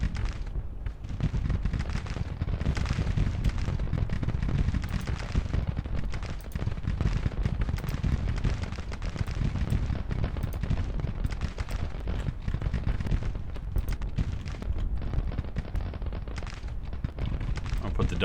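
Dense, continuous Civil War musket fire and artillery rumble in the strategy game Grand Tactician, a loud unbroken roll of overlapping volleys and booms with no pauses.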